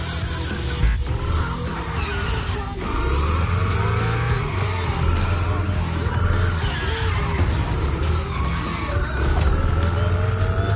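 Game car drifting in The Crew Motorfest, a steady loud engine drone with rising and falling revs and tire squeal running throughout, continuous with no pauses.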